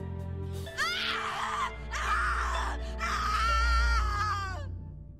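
Anguished screaming from The Cat Lady video game, three long wailing cries in succession, close and loud over a low droning background.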